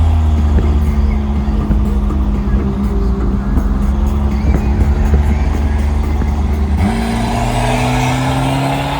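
A truck engine drones loud and steady while drifting on a street in Mexico, its pitch rising sharply near the end as it revs, with a faint squeal of tires under the roar.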